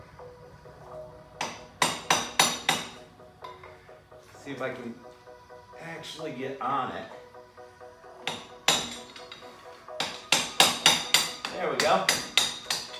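A hammer strikes a long bar to pop a CV axle out of the transmission of a Honda Civic Del Sol, sharp metallic blows landing in quick bursts of three or four, close and loud, with someone speaking between them.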